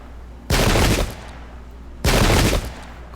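Musket volley fire in the Pike and Shot strategy video game: two loud, crackling bursts of massed gunfire, each about half a second long, separated by a short pause.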